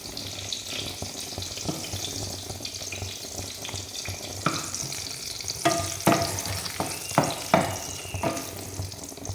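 Eggplant kuzhambu bubbling and sizzling in a pot, the eggplant picked from a rooftop garden, gives a steady close bed of bubbling with several sharper pops and clinks toward the end, no talk over it.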